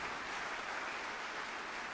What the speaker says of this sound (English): Let's give these distinguished units a round of applause